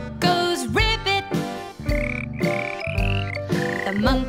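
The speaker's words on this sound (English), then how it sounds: "The frog goes ribbit." A frog croaks its ribbit inside a cheerful children's nursery rhyme song, the croaks repeating in quick bursts over bright music.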